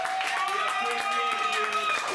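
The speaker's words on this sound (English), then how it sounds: "So give yourself a big applause as well." Audience applause at a late-night improv comedy show, a dense, even patter of clapping held throughout, with a voice or tonal sound faintly over it.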